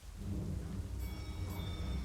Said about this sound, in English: Oh, that rain sound is so good.